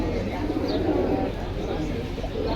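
Pigeons coo softly amid the crowded bustle of a pigeon market at Jinjira Bazar, their low calls mixed into steady background chatter and market noise with voices talking nearby.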